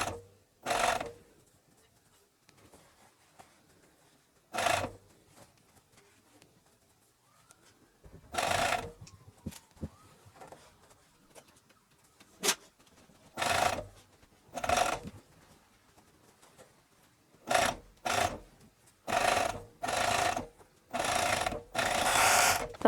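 A coverstitch sewing machine topstitches ribbing onto a small dog's T-shirt, running in short mechanical bursts of stitching separated by quiet pauses, with the runs coming faster and closer together toward the end.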